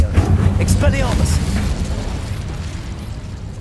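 A Confringo fire-blast spell explodes in Hogwarts Legacy with a loud burst at the start that rumbles and fades over a few seconds, mixed with other game sounds and a brief voice.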